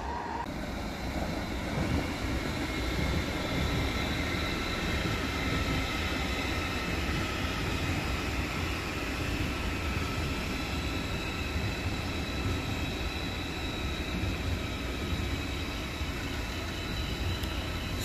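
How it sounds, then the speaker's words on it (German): A twelve-car DB Fernverkehr ICE 4, class 412, running from Munich to Berlin passes as a steady, loud, close rolling roar of wheels and wind that holds for the whole stretch without pause. "Das ist der nächste ICE 4 als normale ICE 4, 12-teilig, Baureihe 412 von DB Fernverkehr."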